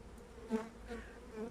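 Honeybees buzz around an open beehive during an inspection, a faint, steady hum with a brief louder pass from a bee close by.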